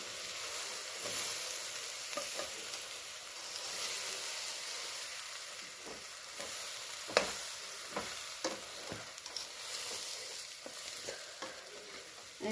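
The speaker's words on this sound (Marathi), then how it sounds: "यामध्ये आपण आता तांदूळ धुतलेला तांदूळ टाकून देऊ मिक्स करून घेऊ" Washed rice is stirred into fried spices in a pan for khichdi, a steady oily sizzle and hiss with scattered scraping stirs growing busier toward the end, close and with no voices.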